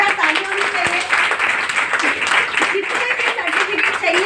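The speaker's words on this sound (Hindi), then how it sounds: "जोरदार तालियां होनी चाहिए।" Applause from an audience at a business presentation, moderate clapping that runs throughout and is mixed with an overlapping voice speaking over it.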